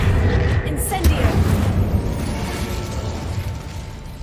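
An Incendio fire spell cast in Hogwarts Legacy gives a sustained roaring, crackling burst that fades slowly over a few seconds, with a voice faintly present in the background.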